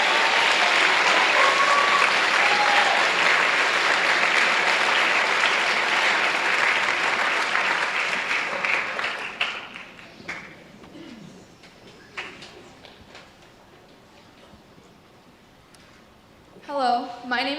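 An audience at a school spring orchestra concert applauds loudly and densely for several seconds. The clapping then thins out and dies away into a quieter room with scattered small noises and a brief final stir of sound.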